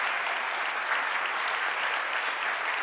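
Audience applause at a literary prize announcement in Italy, dense, steady clapping from a sizeable crowd, loud and close throughout.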